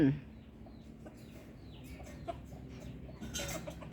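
Fighting rooster of a gamecock breed, kept in a bamboo cage, clucking softly a few times at close range over steady background noise, with no one speaking over it.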